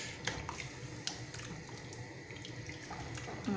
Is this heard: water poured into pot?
yes